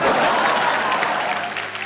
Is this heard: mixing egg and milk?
no